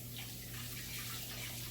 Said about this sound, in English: All right, wash my hands again,